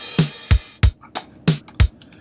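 A punchy drum pattern with deep kicks and sharp snare hits in a steady groove, loud and close, with lighter hits between the main beats.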